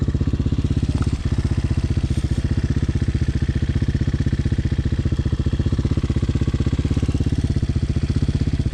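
Honda Hawk 250cc motorcycle engine running steadily while riding, a loud, even, rapid thumping putter with no speech, close and constant throughout.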